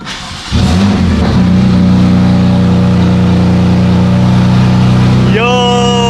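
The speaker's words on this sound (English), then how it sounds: "let's give her a first startup" A car with a newly fitted Active Autowerke exhaust cranks and starts for the first time, then holds a loud, steady, rumbling idle close by, with a brief rising rev near the end.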